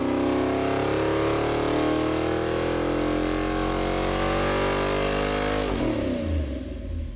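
A Ford 460 V8 on a dyno revs up to 5,500 RPM, making a loud, sustained roar that climbs steadily in pitch for several seconds. It then drops off abruptly as the throttle closes, heard close with no talk.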